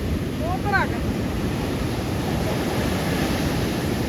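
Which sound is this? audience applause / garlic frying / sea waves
sea waves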